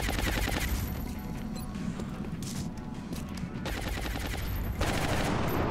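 Sustained, dense automatic gunfire lays down suppressing fire in the XCOM Long War video game, a loud, continuous rattle of overlapping shots that barely lets up for several seconds.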